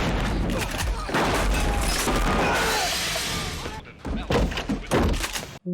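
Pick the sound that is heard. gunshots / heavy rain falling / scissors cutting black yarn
gunshots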